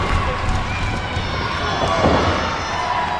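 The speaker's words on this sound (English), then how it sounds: "Listen to the crowd getting behind the Unchained One." Wrestling arena crowd at the Rumble, a dense roar of cheering and rumbling noise that holds steady throughout, near and loud.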